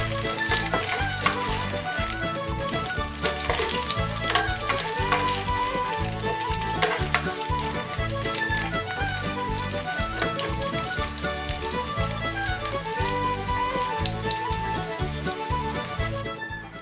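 Chips frying in hot oil give a dense, continuous crackling sizzle with sharp pops, loud and close, steady for the whole stretch without any talk.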